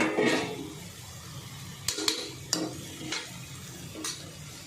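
Fenugreek and potato sabzi with fresh coriander being stir-fried in a pan: a steady soft sizzle under a few sharp spatula scrapes and taps against the pan, close and moderately loud, with no talking.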